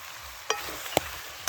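Chicken gizzard frying in its own rendered fat gives a steady close sizzle, broken by three sharp stirring scrapes spaced about half a second apart.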